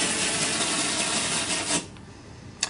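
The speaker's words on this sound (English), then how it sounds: "The bristles on the rivet brush just help it get good adhesive contact." Close, steady scratchy rubbing as the bristles of a rivet brush press self-adhesive film onto textured paint. The sound stops abruptly after about two seconds, followed by a faint brief tap.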